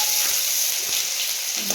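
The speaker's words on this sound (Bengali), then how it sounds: "তেলটা গরম হয়ে গেছে দিয়ে দেবো পাঁচ ফোড়ন তেজপাতা দুটো আর আদা কুচানো দিয়ে" Panch phoron, two bay leaves and chopped ginger sizzle in hot oil, a steady bright close crackle with no talk.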